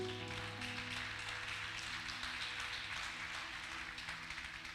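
Applause in a church during a Portuguese-language evangelical Wednesday service, a faint, steady wash of many hands clapping from a distant congregation, continuous with no talk over it.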